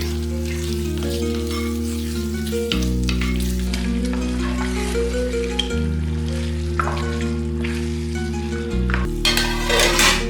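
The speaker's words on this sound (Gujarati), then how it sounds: "એક ચમચી બાદશાહ ચિકન મસાલા એક વખત ફેરવી દઈએ।" Chicken being stirred with Badshah chicken masala in a frying pan while bhuna masala is cooked: a steady sizzle with occasional scraping stir strokes, under loud continuous background music.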